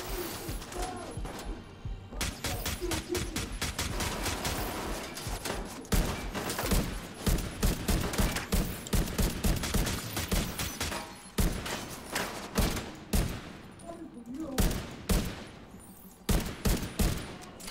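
Rapid gunfire bursts in the shooter game The Division 2, loud sharp shots in fast volleys and clustered rattles, broken by brief pauses, with a faint voice now and then.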